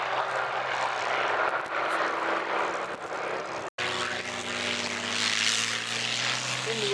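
A Hawker Hurricane fighter with a propeller engine flies past at an airshow, its steady drone loud and near, then after a brief cut the engine tone rises and shifts as the aircraft sweeps by.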